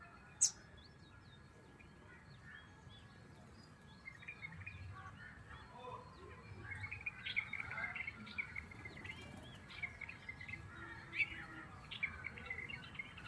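Faint sparrows bathing in poured water chirp and twitter in short, scattered calls that grow busier later, over a soft outdoor background.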